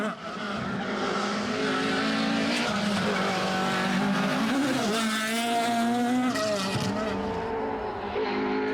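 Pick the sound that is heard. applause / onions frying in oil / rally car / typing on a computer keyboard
rally car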